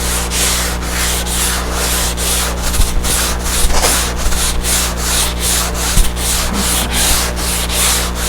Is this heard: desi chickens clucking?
no